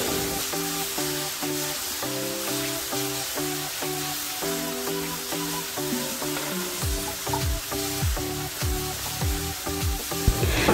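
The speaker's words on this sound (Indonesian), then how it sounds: "Kita gorengnya sampai mateng ya" Seasoned tofu fries in a pan with a steady sizzle and crackle, while a stirring or scraping rhythm repeats over it and a low tonal hum runs underneath, fairly close.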